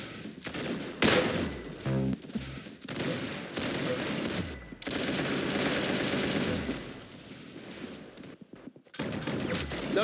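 Automatic gunfire in a shooter video game, repeated bursts and thumps separated by brief silent gaps, loud and close throughout.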